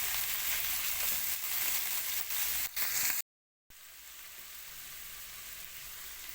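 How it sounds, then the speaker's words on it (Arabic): Minced garlic fries with beef liver in a hot pan, a loud continuous close sizzle with a few stirring scrapes, briefly cut to silence before a softer sizzle resumes. "هننزل بالثوم كده المفروم"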